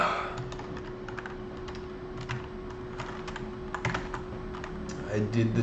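Rapid keyboard typing on a computer during a programming session, a steady run of quick, light key clicks with a faint constant hum beneath and a brief murmur of speech near the end.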